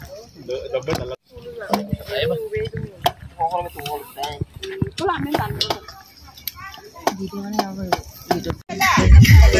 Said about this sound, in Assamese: মোৰ ভাগত পৰিছে এইয়া ভাজি কৰিবলৈ ৰান্ধনিৰ ভাগ